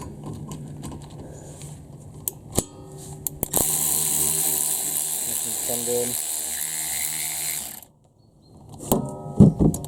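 A ratchet clicks repeatedly while undoing a bolt on the rear brake of a 2013-on second-generation Ford Kuga during a disc and pad change, close and fairly loud in bursts, with short gaps and a voice talking at times.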